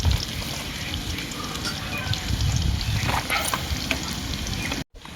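Dried anchovies (nethili karuvadu) frying in a pan with green chillies as curry leaves go in: a loud, steady sizzle with light stirring scrapes throughout, cutting out briefly near the end.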